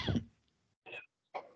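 A person coughs three times: one heavy, throaty cough followed after a pause by two shorter, lighter coughs, close and alone in a quiet room.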